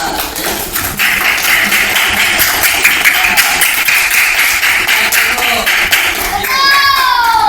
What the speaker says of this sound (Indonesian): Sudah, tepuk tangan bagi kita semua.